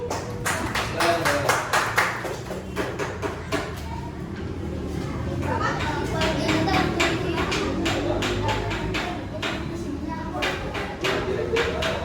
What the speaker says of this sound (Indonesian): tepuk tangan dulu buat Teja Lampu